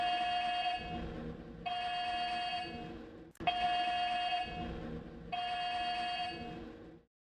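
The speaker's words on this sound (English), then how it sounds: "H2S alarm." A loud buzzing H2S gas alarm sounds in long on-off pulses, a steady harsh tone repeating about four times with brief gaps between.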